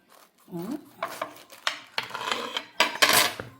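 A knife slices through pineapple on a board in a kitchen, with soft, uneven cuts and scrapes, a light knock near the start and a brighter rasp toward the end. The sounds are fairly faint and close.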